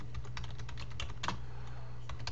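Typing on a computer keyboard while logging a contact activity in CRM software, a steady run of light, close key clicks with a few slightly louder taps, over a constant low electrical hum.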